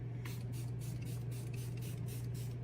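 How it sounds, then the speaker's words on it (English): Makeup setting spray mists onto a face in about nine quick, rhythmic pumps, each a short airy hiss, close and steady over a constant low electrical hum. "And now we're gonna do the setting spray."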